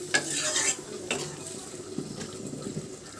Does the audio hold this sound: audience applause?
no